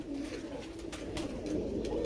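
Soft, low pigeon cooing close by, a throaty repeated burble with faint rustling mixed in.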